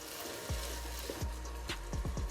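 Tinned tomato frying in a pan, a steady soft sizzle with occasional pops and bubbles breaking through, close and fairly quiet.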